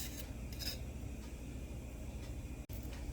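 Quiet scraping and rubbing of a knife cutting a black spot out of a yam, close by, with a soft rasping texture and a brief sharp click near the end.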